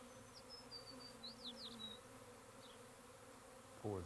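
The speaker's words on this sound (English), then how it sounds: "Now I'll get the other bees that are in the traveling cage. We'll introduce them into the" Honey bees buzz at a hive as more bees are poured in from a traveling cage. The hum is faint and steady with a few higher passing whines from individual bees, and a brief louder rustle comes at the end.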